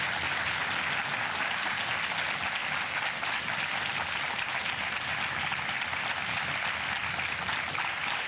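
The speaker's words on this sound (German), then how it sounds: "Und das jetzt ist Ihr Applaus für den Donnerstag." Studio audience applauding on a German television sports show, a continuous even wash of many hands clapping at moderate level throughout, with no voices.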